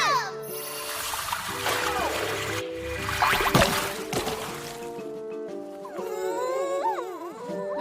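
A water ball magic attack splashes in an English-dubbed anime, with a watery whoosh and spray over a swelling musical score and character voices.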